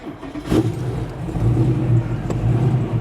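A Mosler with a twin-turbo LS7 V8 fires up, a sharp catch near the start followed by a steady, fairly loud mid-pitched engine drone with a brief second blip, no talking.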